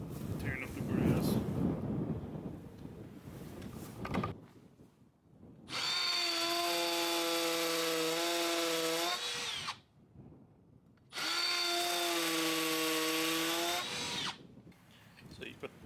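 Power drill driving screws into the mounting of a wall-mounted hose hanger outdoors, two sustained whirring runs of about four and three seconds separated by a pause, close and loud, with faint wind and rustling before.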